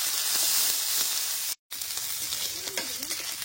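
Chopped garlic, green chilli and ginger frying in mustard oil with cumin in a wok, a loud bright sizzle, briefly cut out for a moment, with light stirring scrapes.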